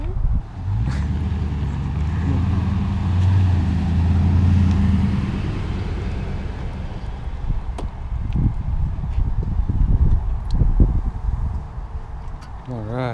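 A 125cc fully automatic go-kart engine runs steadily on a test drive, a loud close continuous rumble with wind buffeting and rising and falling revs.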